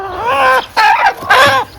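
Native country hens settling together for the night make three close, drawn-out clucking calls in a row, each rising and falling, with brief pauses between them.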